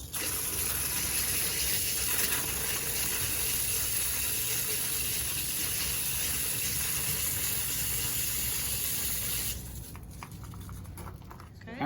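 Water gushing steadily through plumbing lines from an open tap, a continuous close rush that holds for most of the stretch before cutting off abruptly near the end.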